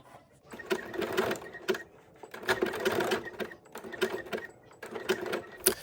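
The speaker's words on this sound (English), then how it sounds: "sewing that onto a poly tackle twill" A sewing machine stitches a patch onto poly tackle twill for a custom jersey, running in several loud whirring bursts with short pauses between them.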